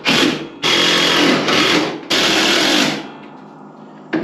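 A power drill driving lag bolts to mount an attic ladder, several loud, sustained whirring bursts at close range separated by brief pauses, with no speech.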